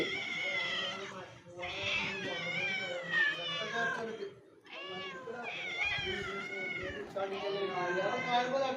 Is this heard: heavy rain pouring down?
no